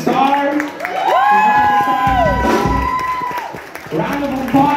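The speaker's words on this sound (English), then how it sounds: "Round of applause, please, for Star." A live show crowd applauding and cheering for a singer, clapping and whoops rising under a host's amplified voice, swelling and then fading.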